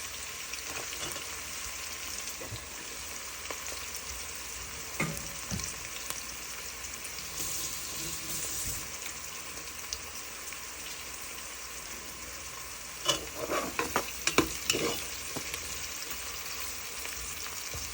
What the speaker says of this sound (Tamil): வெங்காயம், இஞ்சி, உள்ளி எல்லாம் நல்லா பொரிக்கட்டும் கொஞ்ச நேரத்துக்கு.